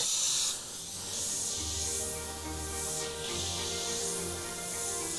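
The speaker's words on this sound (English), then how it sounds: "Start off with some broader spray." An airbrush sprays transparent black paint in a steady, close, continuous hiss with brief trigger variations, alone without talk, over a faint low background hum.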